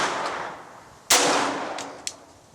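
A single sharp crack from a Glock fitted with a Tactical Solutions TSG 17/22 .22 LR conversion rings out mid-clip, followed by a fainter metallic click, against quiet outdoor background.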